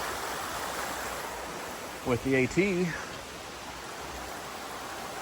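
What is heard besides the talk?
mountain brook flowing, Cascade Brook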